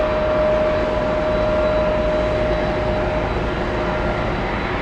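A Lufthansa Airbus jet bound for Munich roars past at JFK airport, a loud, steady broadband engine rush with a thin whining tone that holds through most of the stretch.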